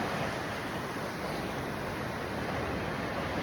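Morning sea surf rolls onto the shore in a steady, broad wash of noise, close and continuous for a few seconds, with no voices on top.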